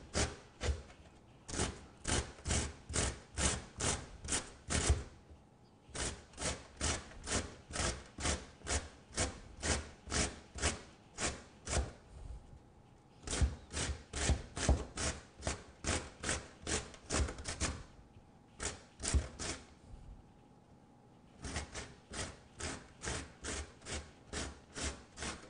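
A potato being grated by hand in a home kitchen: rapid, even rasping strokes in several long runs separated by short pauses, close and clear with no talking.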